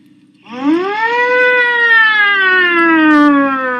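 A siren wails steadily, rising at the start and then holding a long, loud, sustained tone with a slight downward drift, close and continuous.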